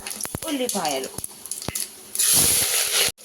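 Peppercorns and shahjeera frying in a pan for a home mutton curry: a voice talks first, then a loud, close, hissing sizzle bursts in for about a second before cutting off abruptly.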